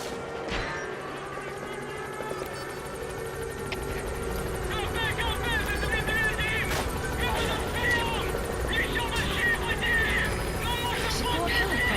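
The Pequod support helicopter arriving in Metal Gear Solid V: The Phantom Pain, its rotor drone steady and loud under busy game sounds and bursts of radio-like chatter.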